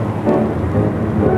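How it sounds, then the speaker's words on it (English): A storm with thunder and rain during the 1961 Deep Freeze operation, a loud, dense roar of rumbling thunder and pouring rain that is steady and close throughout. "Storms like this present real hazards to personnel and equipment."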